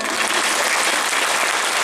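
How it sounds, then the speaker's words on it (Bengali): An audience claps together at the Sree Sree Thakur Anukul Chandra 137th birth anniversary festival, a dense, steady burst of applause that stays loud and even for its whole short length. "হাততালি"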